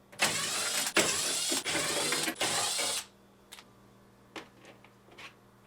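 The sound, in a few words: 1/4 inch nut driver removing bolts from refrigerator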